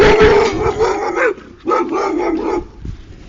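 Dog barking and howling up close, loud drawn-out yowling bursts in two main bouts with a short pause between, followed by a softer whine.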